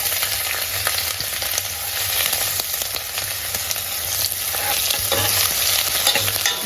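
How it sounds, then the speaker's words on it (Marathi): Finely chopped onion fries in oil with bay leaf and curry leaves, giving a loud, dense, unbroken sizzle heard close up with faint scraping from stirring. "कांदा हलकासा ब्राऊन होईपर्यंत आपल्याला परतून घ्यायचा"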